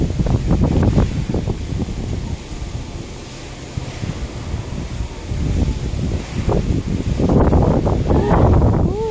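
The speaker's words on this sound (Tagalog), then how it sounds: "Ang lakas ng hangin, no?" Strong wind buffets the microphone in a steady roar that rises and falls, with brief low noises mixed in toward the end.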